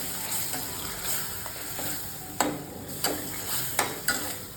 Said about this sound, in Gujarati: હવે આ જે મિશ્રણ છે એને બરાબર મિક્સ કરી લેવાનું છે.